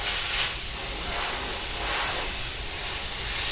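An HVLP spray gun filled with solvent is blown out to clean it, giving a loud, steady airy hiss close by that swells and eases slightly throughout, with no voices.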